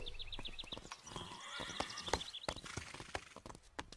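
Pepper the horse whinnies in an animated cartoon, a run of shrill, wavering neighs layered over busy clattering sounds and rhythmic hoof-like knocks, close and fairly loud.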